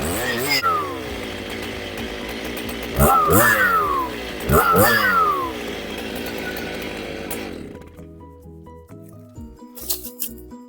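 A chainsaw fitted with a new but blunt chain cuts into forest red gum, its engine droning steadily with rising revving surges that sweep up twice. It drops off near the end to idle sputters, and a voice speaks over it.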